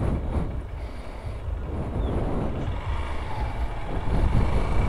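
A 2014 Honda Bros 150 motorcycle rides along with a steady, loud engine drone and wind buffeting throughout, holding an even level and rising slightly toward the end.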